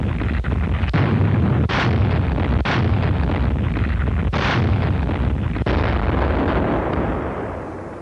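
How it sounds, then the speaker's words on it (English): Warships firing an artillery barrage before a landing, heavy booming blasts repeating every second or so over a dense roar of continuous rumble, loud and sustained throughout. "the warships laid down a barrage as cover for the main landing forces"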